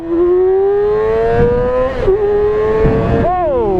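A Yamaha R6 sport motorcycle with traction control switched off accelerates hard. The loud engine whine climbs steadily, dips at a gear change, then rises again before another shift near the end.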